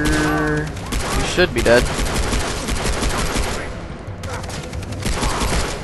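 Rapid gunfire from the shooter game Far Cry 3 crackles in dense, overlapping bursts of automatic shots, loud and close, while someone talks over the shooting.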